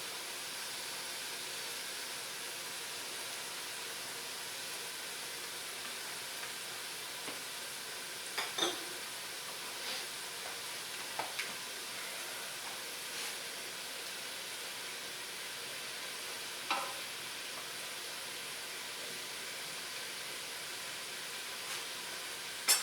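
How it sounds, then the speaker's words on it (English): About eight ounces of sliced mushrooms cook in a pan, giving a steady soft sizzle and hiss throughout, with a few faint clicks and taps over the constant frying noise. "Now, I have 8 ounces sliced mushrooms. Let's see what happens to these guys when I cook them."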